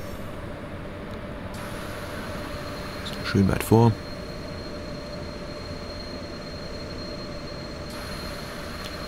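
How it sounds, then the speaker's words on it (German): A Deutsche Reichsbahn diesel train brakes in Train Simulator Classic, a steady rolling rumble with a brief squealing burst in the middle while someone speaks German. "Wir bremsen den Zug hier ein letztes Mal rein."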